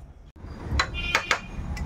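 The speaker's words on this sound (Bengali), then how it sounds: "ঢেকে দেব।" A lid is set on a cooking pot of jackfruit-seed curry left to simmer, giving a few short clanks and taps over a quiet kitchen background.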